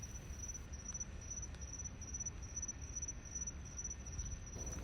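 Steady, high insect-like chirring at night in New Orleans, attributed to a frog, running continuously as a thin even trill over low wind rumble with no voices.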